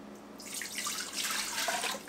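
Three cups of water poured steadily into an Instant Pot Pro, a continuous close splashing and trickling that swells after the first half second and runs on alone without talk.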